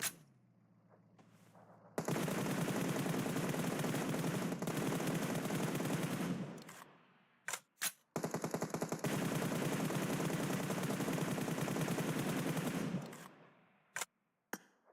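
Sustained automatic gunfire in a battle royale game where shots are aimed at a buggy, with two long loud bursts separated by a brief gap and a few isolated single shots near the end.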